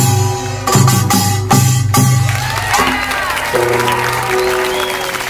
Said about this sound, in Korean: 이 다섯 분의 큰 박수 다시 한번 부탁드리겠습니다.